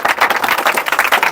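A classroom of students claps for a classmate, a short burst of brisk, fairly loud, closely packed handclaps with no talk.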